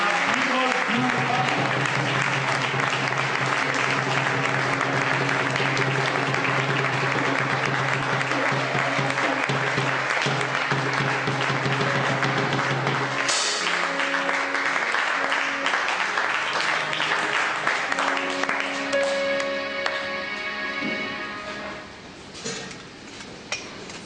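At a handover ceremony, an audience applauds to welcome Bishop Martin Gilles, with dense sustained clapping mixed with music and voices that thins out and fades toward the end.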